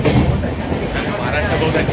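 A train runs on rails with a loud steady rumble and rattle heard from inside the carriage, and people talk over the noise.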